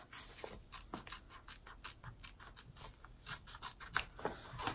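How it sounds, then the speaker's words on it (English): Quiet, close snipping of applique scissors trimming fabric, a quick irregular series of short crisp cuts with brief pauses between them. "I'm really just going to trim up here and straight down there with my applique scissors"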